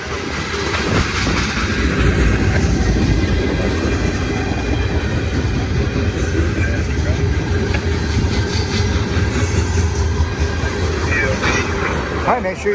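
A BNSF heavy manifest freight train with seven locomotives storms over Cajon summit, a loud continuous rumble of rolling cars and wheel clatter with faint squeals, steady and close throughout.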